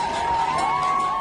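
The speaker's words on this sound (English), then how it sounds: "huge crowds chanting death to the dictator and government buildings on fire" A huge crowd at a street protest roars and chants together, a dense, sustained wash of many voices.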